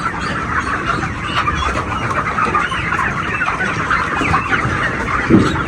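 Many farm chickens clucking together close by, a continuous busy chorus of overlapping clucks.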